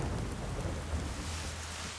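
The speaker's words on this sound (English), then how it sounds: "That autumn was unusually cold and rainy." Steady rain with a low rumble of thunder from a cold autumn storm, a continuous wash of noise at moderate level with no voices.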